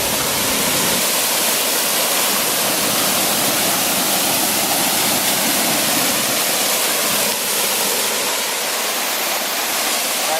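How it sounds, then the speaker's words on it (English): A waterfall pours inside a tunnel on a bike trail, a loud, steady roar of rushing water that fills the whole clip without a break, close by. "So we're getting water in the waterfall."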